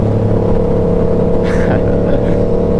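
A Yamaha R7 motorcycle engine accelerates with a steady droning roar heard close, mixed with wind rush.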